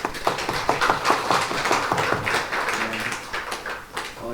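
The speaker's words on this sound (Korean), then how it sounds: "함께 박수 주겠습니다." A church congregation claps together during a Sunday morning worship service, a dense run of quick hand claps with steady rhythm that lasts several seconds, moderately loud in the room.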